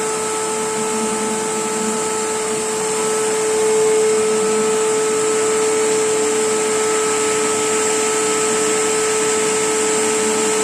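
A vacuum cleaner powered by a hybrid inverter UPS during a load test drones steadily for the whole stretch, a constant whining hum with no pauses, fairly loud and close.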